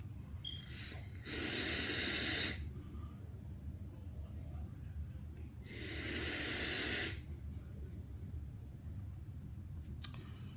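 Two long, strong draws on a sub-ohm vape tank run at high wattage with wide-open airflow, each a loud rushing airflow hiss lasting about a second or more, separated by quiet pauses.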